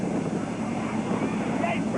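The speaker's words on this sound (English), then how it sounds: "Next big jet approaching." A big jet airliner approaches at an airfield in Dallas, a steady broad engine roar with wind noise, moderately distant and building, with someone talking over it.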